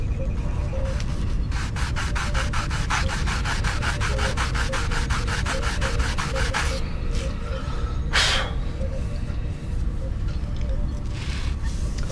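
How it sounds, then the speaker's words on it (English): Filler primer being sanded by hand on a prop Star Trek Voyager science tricorder, a steady run of close, even rubbing strokes that keeps going throughout with no talk. "I'm sanding away the filler primer that I've put on, and any low spots are shown by the primer."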